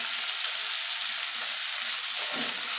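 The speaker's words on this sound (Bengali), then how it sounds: "গাজরটা একটু নাড়াচাড়া করে নেব।" Carrots being stirred and fried in a pan with cauliflower for a vegetable dal, a steady close hiss of frying throughout, with a brief scraping stir near the end.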